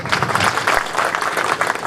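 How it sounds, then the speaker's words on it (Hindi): An audience at a seed company's farmer event applauding to welcome a guest, a dense, loud burst of clapping from many hands, brief and close. "इनके जोरदार स्वागत के लिए कृपया तालियां बजाएं।"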